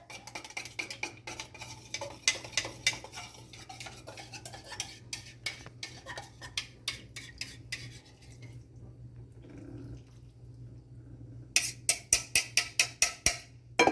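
A utensil taps and scrapes against a pot while homemade spaghetti sauce with garlic powder is mixed, making a rhythmic series of close clinks. A short pause comes before a final burst of quick stirring knocks.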